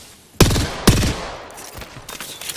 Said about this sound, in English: Something is shooting at me.